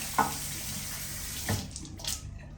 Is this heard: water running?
yes